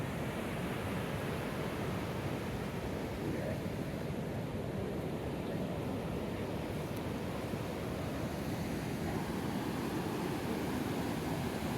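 Continuous broadband wash of sea surf rolling onto the beach at Cox's Bazar, steady and fairly near, with wind noise on the microphone and no clear voices.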